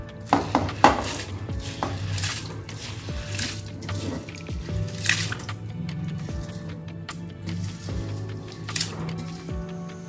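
Rice is poured into a pot of boiling water for beef qorma pulao, with soft splashing, drips and clinks of pans and utensils over a steady bubbling background.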